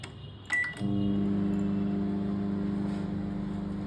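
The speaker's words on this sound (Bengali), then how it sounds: "এবার আমি চালু করে দিচ্ছি মাইক্রোওভেন এটা দশ মিনিটের জন্য দিচ্ছি মাইক্রোমোডে" A microwave oven holding a whole tandoori chicken clicks on, then settles into a steady loud hum with a faint whirring, close by and without talk.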